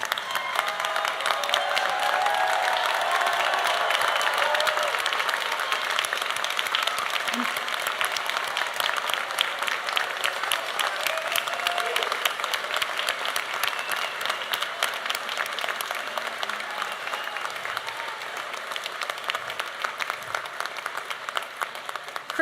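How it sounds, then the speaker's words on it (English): A standing audience at a 2025 commencement ceremony gives the graduates a long, sustained round of applause, a thick, even wash of clapping with faint cheers that continues steadily for over twenty seconds. "will everyone please stand and join in one more round of applause"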